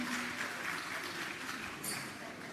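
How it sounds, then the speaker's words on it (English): An audience at a land titling ceremony applauds a recipient, a steady wash of clapping from a moderately distant crowd that carries on without pause. "You can give them a round of applause, man."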